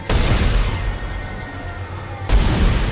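Gunfire in the video game Dead Space: a loud, close burst opens the moment, then a second sharp blast lands near the end after a lingering, rumbling tail.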